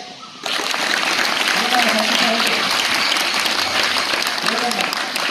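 A classroom of students bursts into steady, dense clapping for a classmate, loud and close, lasting several seconds with a voice audible beneath it.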